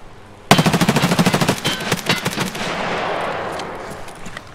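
Rapid automatic gunfire in the video game Escape from Tarkov, a loud close burst of evenly spaced shots lasting over a second, then scattered fainter cracks and a ringing echo that tails off.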